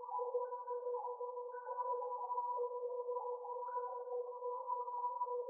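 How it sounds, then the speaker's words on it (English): A one-shot ambient texture sample from a sample kit, pitched down a semitone for an R&B beat: a steady, sustained tonal drone with faint wavering overtones, holding at even loudness throughout with no voices. "I added this texture, I'm pretty sure, from a XY Nothing One Shot Kit, and I pitched it down 100 cents"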